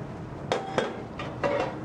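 Crab meat gets tossed with a vinaigrette emulsion in a bowl, a few quick clinks and scrapes of utensil against the bowl in short close bursts.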